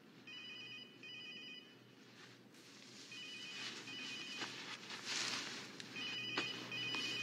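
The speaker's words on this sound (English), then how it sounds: "the fucking phone won't stop ringing" A telephone ringtone trills in repeated bursts, pausing between rings and resuming, moderately loud in a room with faint background shuffling and no voices.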